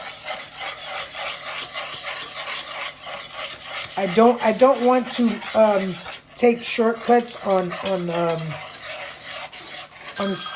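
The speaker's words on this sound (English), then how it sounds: "I mix it all up real good in the pan." Knox gelatin gummy mixture stirred in a pan with a utensil, a steady scraping and clinking close by, with a person talking over it through the middle.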